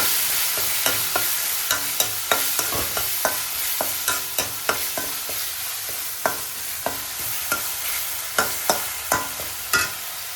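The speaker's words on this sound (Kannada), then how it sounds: "ಈಗ ಚೆನ್ನಾಗಿ ಮಿಕ್ಸ್ ಮಾಡಿ." A spoon stirs dal tadka in a pan over a steady sizzle, with a run of close, sharp scraping clicks that repeat through the whole stretch, no voices.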